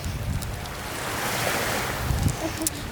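Sea waves washing onto a beach on Siargao in the Philippines, a loud steady roar of surf mixed with wind buffeting the microphone, with no talking.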